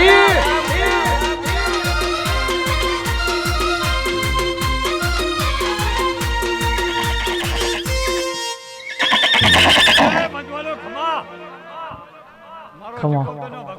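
A horse neighs loudly as a sound effect in a Navratri Garba DJ remix, preceded by a steady thumping dance beat with singing; clip-clop and whinny sounds follow as the music breaks off.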